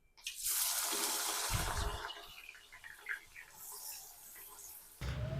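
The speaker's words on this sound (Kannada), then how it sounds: "ಈಗ ಈ ಆನಿಯನ್ಸ್ ಎಲ್ಲ ಫ್ರೈ ಮಾಡ್ಕೊಳ್ಳೋಣ." Sliced onions hit hot oil for frying and set off a loud, broad hiss that swells quickly and then fades to a quieter crackling sizzle, with a fresh burst near the end.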